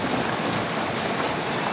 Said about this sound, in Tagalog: Ang lakas ng ulan, oh, guys.